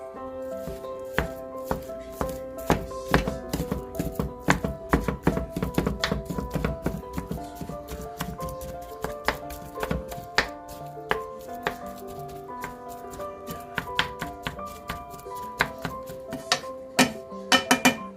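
A utensil repeatedly clatters and scrapes against a pan while ground beef and onions are broken up over medium-low heat, giving steady irregular taps over a constant tonal background.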